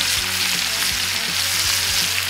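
Butter sizzles loudly in a hot pan beside a seared steak, a dense, continuous crackling hiss close up with no voices.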